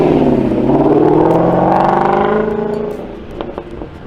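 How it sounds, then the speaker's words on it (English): A Ferrari 355 engine wails at high revs, a loud, rising and falling howl that gradually fades as the car pulls away into the distance. "when you hear a 355 wail like a phantom into the distance"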